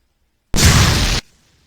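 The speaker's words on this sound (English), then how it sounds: "Because this is a single shot, non-reloadable, disposable rocket, the character will immediately drop it after it has been fired." A disposable single-shot rocket launcher, extended before firing like a US LAW 72, fires in a video game: one loud, abrupt blast that holds for about half a second, then cuts off into a faint tail.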